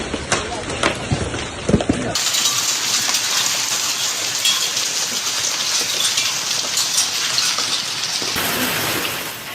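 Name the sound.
hailstorm hail striking parked cars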